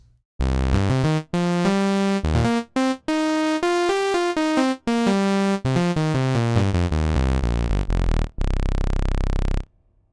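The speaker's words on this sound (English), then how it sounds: "So this is the sound of the sawtooth of the Matrix 6." A bright, buzzy sawtooth from an Oberheim Matrix 6 synthesizer plays a melodic run of sustained notes with short gaps, ending on a long held chord; loud and clean, no voices.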